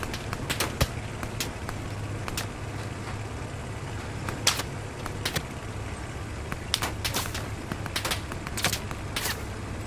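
Enemy machine gun fire in Hell Let Loose, scattered sharp cracks and short bursts at moderate distance, irregularly spaced over a constant low battlefield rumble, with no speech.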